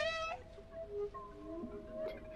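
A cat meows in the video game Stray, giving a couple of drawn-out, tonal mews close to the listener over faint background game ambience.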